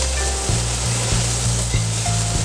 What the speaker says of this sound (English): And we're just going to saute this up.